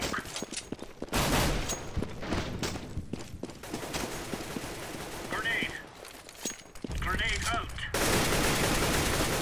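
Gunfire sprayed through a wall in CS:GO on the Mirage map: bursts of rapid rifle shots come in clusters between quieter gaps, mixed with game effects, while a commentator talks over the action.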